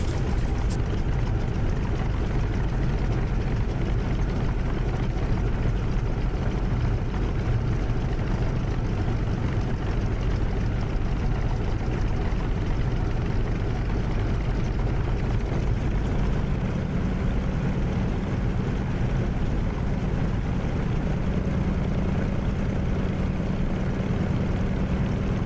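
An F6F Hellcat's propeller engine drones steadily and loudly throughout a fast taxi, a dense continuous rumble with no talk over it.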